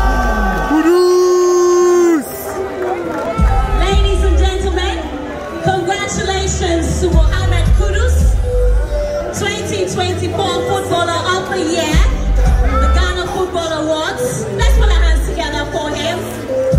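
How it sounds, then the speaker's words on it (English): Loud crowd cheering and whooping fills a hall at the 2024 Ghana Football Awards as Mohammed Kudus is named Footballer of the Year, with shouts and music-like tones layered over dense, continuous noise. "A big round of applause, ladies and gentlemen"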